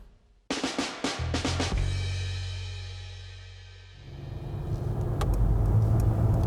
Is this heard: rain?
no